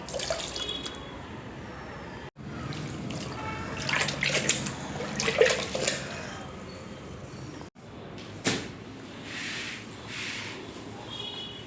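Phenyl is poured into water for mopping a floor, giving a close trickling and splashing of liquid into a container that runs steadily with brief gaps, no speech over it.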